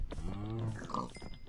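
A Minecraft pig gives a short, close grunting oink lasting about a second, with a low tone.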